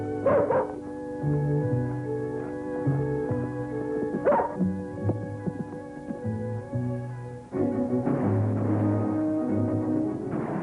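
Bullet, Roy Rogers' wonder dog, lets out short bursts of barking and yipping in a few separate clusters over a steady musical background.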